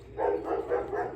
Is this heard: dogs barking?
yes